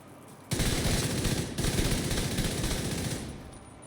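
An Exotic Scorpio build in The Division 2 unloads a loud, continuous automatic stream of shots for about three seconds, tailing off abruptly, with no talk over it.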